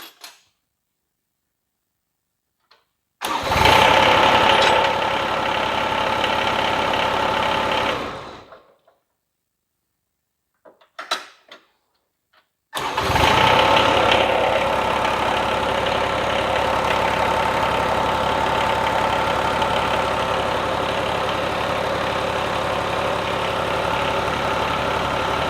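A John Deere 855 tractor engine starts and runs steadily for about five seconds, cuts out, sputters briefly, then restarts and idles evenly with a loud, constant drone and no voices.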